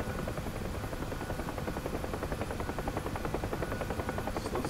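A Huey helicopter in the DCS flight game thumps with a steady, continuous rotor chop over a dense engine drone, loud and close throughout.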